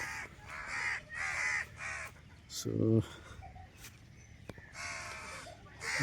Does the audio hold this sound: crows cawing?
yes